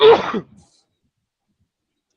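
A single sharp sneeze bursts out close and loud, a harsh breathy blast of about half a second followed by silence.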